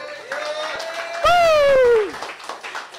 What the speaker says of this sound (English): Everybody give Josh a round of applause.